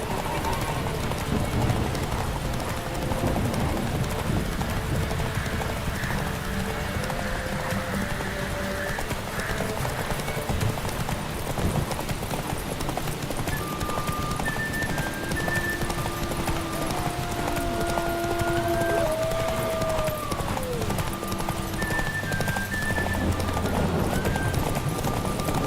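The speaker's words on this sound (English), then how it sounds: "Run, Roach! Run" Hooves of the horse in The Witcher 3 video game clip-clop steadily in a fast gallop, joined by a whinny and other game sounds over a constant ambient bed, moderately loud throughout.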